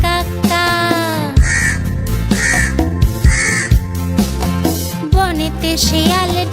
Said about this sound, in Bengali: ডালে বসে কাক ডাকে কাক কাক কাক।